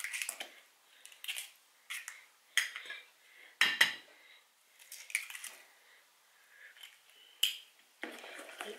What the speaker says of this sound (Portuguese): Agora vou pôr os dois ovos inteiros.